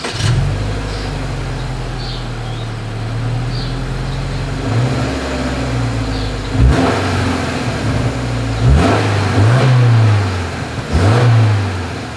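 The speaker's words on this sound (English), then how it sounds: "As always, here is that exhaust clip." A 2024 Subaru Outback exhaust idles with a deep burble, then several sharp revs surge and fall back, loud and close, with a pause between bursts.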